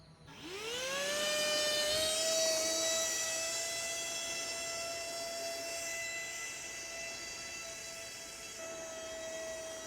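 A hobby RC boat's electric motor at 40% throttle spools up into a high steady whine that holds for several seconds as it runs on a lake, fairly loud and alone, slowly easing as it moves away.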